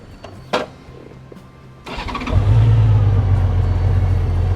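A 2005 Honda Rune motorcycle starts up close by after a few faint clicks, then settles into a loud, smooth, steady low idle.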